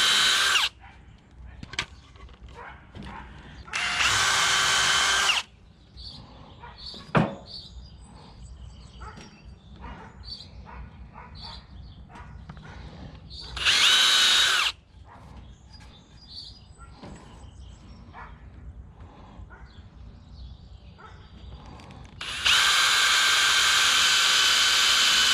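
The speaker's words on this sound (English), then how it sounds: "All the holes are drilled, everything's laid out." A power drill bores holes in wooden stair pieces for a tiny house or shed. There are three loud, sustained whirring bursts separated by quieter handling clatter and knocks, with faint birdsong in the background.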